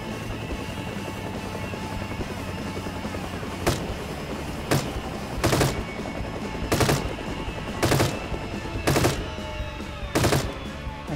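Bursts of automatic gunfire ring out in The Front over a constant engine drone, roughly seven short rattling volleys at irregular intervals, fairly loud and close.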